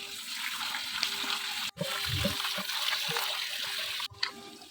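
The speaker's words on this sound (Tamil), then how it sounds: "வெஜிடபிள் எல்லாம் வாஷ் பண்ணிக்கணும்" Vegetables for a vegetable biryani are washed under a running kitchen tap: a steady, close rush of flowing water with a couple of brief breaks in the stream.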